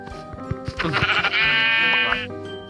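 A sheep bleats in the video game Minecraft: one loud, drawn-out, wavering bleat rises after a few quick clicks and taps, then fades.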